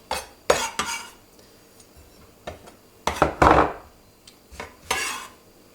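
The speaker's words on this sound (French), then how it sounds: "et on écrase le beurre. On mélange tout." Butter being mashed and mixed with fresh cheese in a bowl, heard as a run of sharp utensil scrapes and knocks against the bowl, irregular and close, with quiet gaps between bursts.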